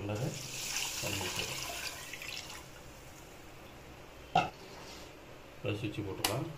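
Water is poured from a tumbler onto rice in an electric rice cooker, five tumblers for two of rice, a soft splashing pour in the first seconds, then quieter with a few light knocks as a person talks.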